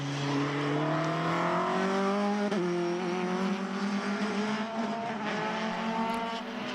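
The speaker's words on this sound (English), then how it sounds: "there's another sports car that can really blast down the straight" Radical sports car racing at Mondello circuit, a loud high engine note climbing steadily in pitch as it blasts down the straight, with a brief shift and sustained roar throughout.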